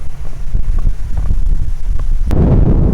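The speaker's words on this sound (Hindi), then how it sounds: "बहुत तेज हवा चल रही है, बहुत ही तेज हवा चल रही है।" Strong wind blows by the open sea at a park near the first landing site of Australian history, buffeting the microphone with loud, continuous low roaring and gusts.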